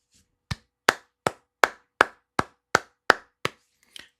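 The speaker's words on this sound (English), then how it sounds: "I had to give that man a round of applause" One person clapping slowly on a podcast, about nine sharp, evenly spaced claps close to the mic, with no talking.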